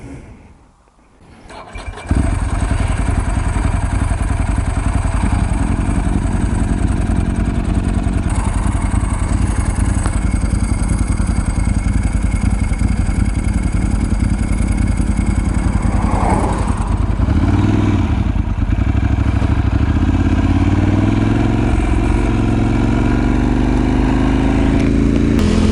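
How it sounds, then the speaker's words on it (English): A Ducati motorcycle engine starts and then runs steadily while riding, a loud, close, continuous engine drone that holds for the whole stretch with slight rises in pitch. "I'm a fat guy on a Ducati."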